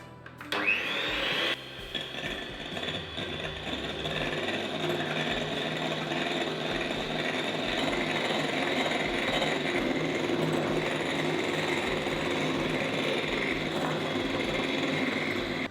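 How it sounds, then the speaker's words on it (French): Egg whites being whipped toward stiff peaks for a vanilla, coconut and red-fruit Christmas yule log, a steady, loud mechanical whirring that runs without pause from start to finish. "Je vais ensuite monter les blancs en neige"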